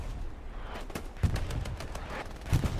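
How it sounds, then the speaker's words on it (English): Precision strike explosions in the online match of Hell Let Loose, a muffled rumbling barrage with two heavy low booms standing out over a continuous distant rolling thunder of impacts. "Here comes the precision strike."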